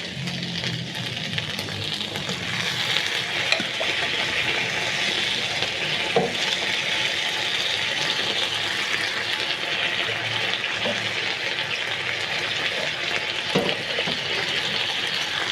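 Cooked spaghetti and its water spill from a pot into a pan, a continuous loud watery hiss and splash with a few sharp clinks of the pot along the way.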